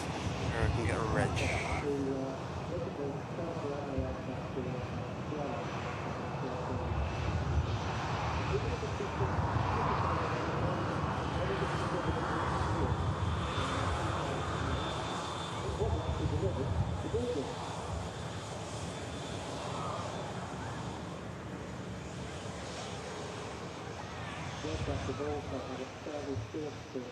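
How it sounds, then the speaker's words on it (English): Airbus A330 jet engines spool up at Manchester Airport as a steady broad roar with a rising whine, heard at a distance beneath continuous conversation. "these 330s sound wonderful on a spool up"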